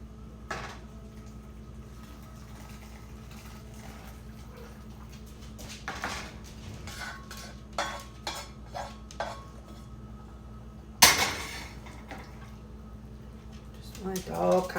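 Chopped onions and mushrooms tumble into a pan for a keto chicken and jicama rice casserole, a cluster of soft clattering thuds followed by a sharp loud clank of cookware near the end, with scattered kitchen knocks around it.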